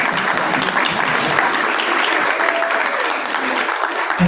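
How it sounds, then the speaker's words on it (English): A conference audience applauds at an investment launch event, a dense, sustained wash of clapping from many hands that holds steady for several seconds, full and close, with no distinct voices. "Another round of applause"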